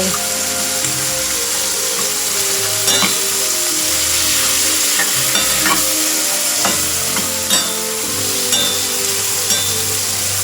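Pork stir-fries with chili and ready-made sauce under a loud, continuous close sizzle, with repeated scraping strokes of a spatula against the pan throughout.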